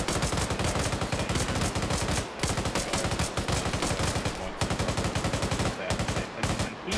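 Dense, rapid gunfire from a PvP video game battle, with continuous bursts of automatic shots and sniper cracks packed together, loud and sustained with only brief pauses.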